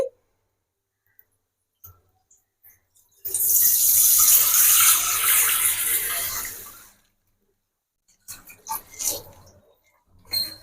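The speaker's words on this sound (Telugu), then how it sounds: "ఒక గిన్నె తీసుకొని పాలు పోసుకోవాలండి" Milk pours steadily into a pot for a few seconds, a rushing splash that stops abruptly, followed by light clinks and handling sounds.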